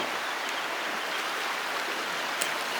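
The Yom River in Thailand rushes strongly beneath a temple bridge, a steady broadband wash of flowing water with a couple of faint ticks on top and no voices.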